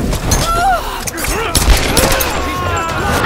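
Pistol gunfire in Tomb Raider (2013), several sharp shots spaced unevenly amid game noise, with a voice speaking over it.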